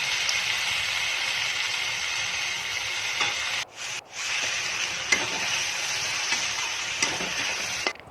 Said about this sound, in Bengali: চালটা দেওয়ার পর একটু ভেজে নিয়ে তারপর একটু গোলাপ জল দিয়ে দেবো